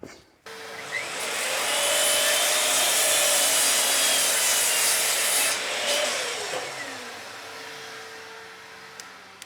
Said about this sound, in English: the track saw makes breaking down sheets so much easier